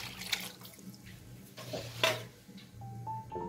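Water poured into a bowl of bread dough ingredients such as flour, powdered milk, food coloring and vanilla, a soft close splashing trickle with a few clinks, no voices.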